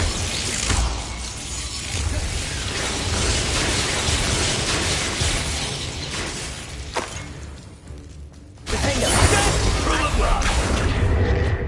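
Booming spell blasts from a Harry Potter video game, the Expulso explosion rumbling loud and broadband, with a brief drop to near quiet before another burst, a voice speaking now and then.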